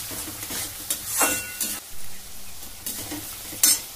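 Tomato paste sizzles and fries in a pan for a Bengali katla fish kalia, with close spatula strokes scraping and stirring in irregular bursts over a steady crackle.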